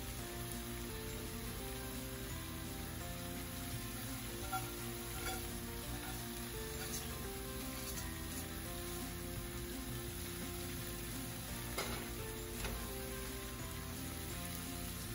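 Chicken leg pieces fry in a pan with little oil, a continuous, even sizzle and crackle with occasional sharper pops, fairly quiet and without talk.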